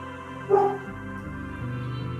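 A dog's single short bark rings out near the half-second mark, clear over a steady droning tone during a quiet practice session.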